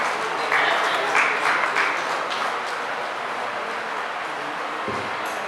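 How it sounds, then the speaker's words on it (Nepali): Audience applause at a labour-day award and certificate ceremony, a dense patter of many hands clapping that swells briefly then fades into a steady murmur of hall noise. "उहाँलाई पनि हार्दिक बधाई र जोरदार तालीले सम्मान गरिदिनको लागि अनुरोध"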